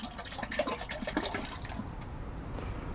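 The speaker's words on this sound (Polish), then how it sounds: "Dodajemy te drożdże do nastawu." Prepared yeast starter is poured into quince fruit-wine must, making a close, continuous splashing gurgle of liquid that trails off into a quieter trickle.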